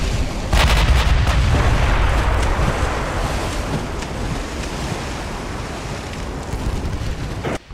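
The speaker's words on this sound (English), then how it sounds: "There comes another salvo, but unfortunately no hits." A naval gun salvo in the Ultimate Admiral Dreadnoughts warship game booms loud and close in a burst of heavy thuds, then gives way to a long rolling rumble and wind-like roar that fades slowly.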